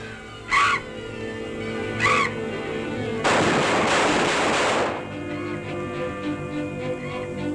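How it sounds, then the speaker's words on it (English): Gunshots fired at a bat: two sharp, fairly close cracks a second and a half apart, then a longer burst of heavy gunfire or rumbling blast lasting over a second, followed by quieter ambience with no talk. "Quick, shoot it!"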